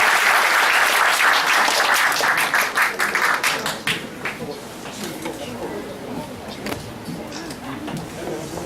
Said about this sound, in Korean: 임원복 대표님을 여러분 큰 박수로 맞아주시기 바랍니다.